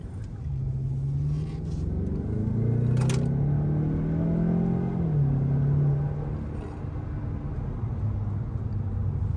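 A Mazda6 accelerates hard in sport mode, its engine rumbling and rising in pitch through a gear change before settling, heard from inside the cabin with no talk over it.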